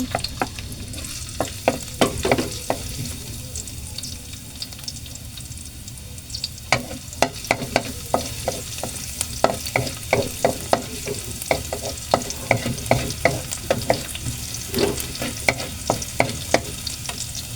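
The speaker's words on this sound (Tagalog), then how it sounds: "Dito na rin po tayo magigisa. Sina po natin yung ating bawang." Garlic sautéing in a pan for chicken afritada, with a steady sizzle under repeated sharp clacks and scrapes of a spatula stirring through the whole stretch, no talking.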